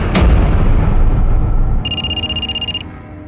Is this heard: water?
no